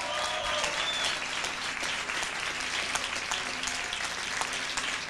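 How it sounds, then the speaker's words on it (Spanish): Evening audience applauding invited artists, sustained clapping from many hands with scattered sharp claps and faint crowd murmur, holding steady throughout. "Yo quiero pedir un gran aplauso para grandes artistas que han venido esta noche."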